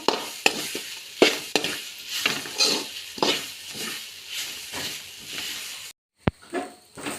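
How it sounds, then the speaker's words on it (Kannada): Turmeric and spices fry in a pan for a home-style chicken curry, a steady close sizzle broken by repeated stirring scrapes, then a brief pause before the hiss resumes. "ಇವಾಗ ಇದನ್ನು ಚೆನ್ನಾಗಿ ಹುರ್ಕೊಳ್ಬೇಕು."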